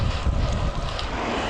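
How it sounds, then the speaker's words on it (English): Steady wind buffets the microphone during a Sunday group bicycle ride near Wimborne, a loud, continuous low rumble with no talk over it. "Where did this wind come from?"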